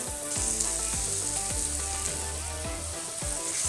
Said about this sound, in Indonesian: Oke, kita tumis sampai benar-benar tercampur rata dan wangi.